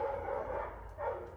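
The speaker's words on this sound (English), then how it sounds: "Sorry about the dog." A dog barks indoors in a home, a few loud rough barks close by in two bursts, with no talking over them.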